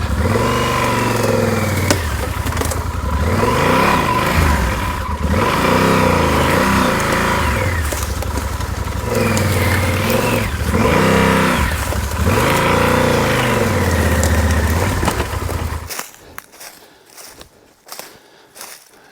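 A motorcycle engine revs and surges repeatedly while riding a forest trail in Hoosier National Forest, loud rising and falling pulls for about fifteen seconds before cutting out, leaving scattered knocks and rustles.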